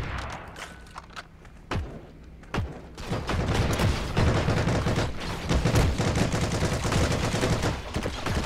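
Machine gun fire in a video game: sustained, dense rattling gunfire with a few isolated shots before it, loud and close.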